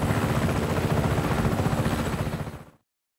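Helicopter in the video game Just Cause 3, a loud, steady, rapidly pulsing rotor chop with continuous engine noise that cuts off abruptly after under three seconds.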